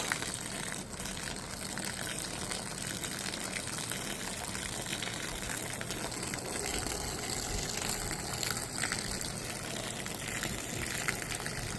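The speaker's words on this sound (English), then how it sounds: "Gonna rinse it a few times." Water gushing steadily over a thick area rug soaked with pet urine as it is rinsed, a continuous close hiss and splash with no talk.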